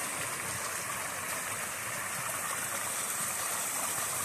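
Mountain creek water flowing steadily over rocks, a dense continuous rushing wash heard close and alone with no voices.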